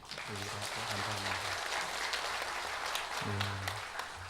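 A church congregation at a Sunday thanksgiving service for all generations applauds the choir with sustained clapping, while someone speaks over it at the start and again near the end.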